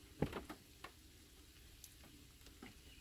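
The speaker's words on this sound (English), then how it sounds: "I'm just going to sit here and enjoy the rain." Light rain falls at a Kentucky campsite at Land Between the Lakes, a faint, steady patter with a few sharper drops ticking close by near the start.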